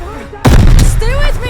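A grenade detonates in a video game battle, a sudden loud, booming blast that rolls on with a roar, while a voice shouts over it.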